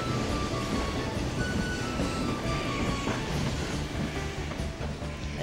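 Rumbling train from the video game Dark Cloud 2, a steady, loud low roar with faint metallic whines running throughout, continuous and close.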